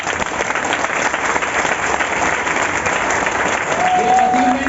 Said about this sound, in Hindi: इतनी तालियां धीरे क्यों बजा रहे हो?